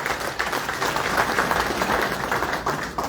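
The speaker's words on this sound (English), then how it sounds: "Let's give a round of applause to all the women and girls in the room." Convention audience applauding steadily for about three seconds, dense, continuous clapping from a large crowd filling the room with no voices rising above it.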